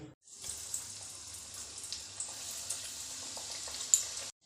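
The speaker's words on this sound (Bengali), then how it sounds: "এদিকে তেল গরম হয়ে গেছে চলো একটা একটা করে ভাজা দেখাই" Cauliflower and flattened-rice chops coated in biscuit crumbs fry in hot oil, a steady close hiss and crackle lasting a few seconds with scattered small pops, no speech.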